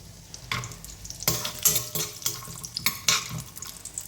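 Cashew nuts fry in hot ghee with a crackling sizzle, broken by several sharp bursts of stirring and scraping against the pan, close and fairly loud.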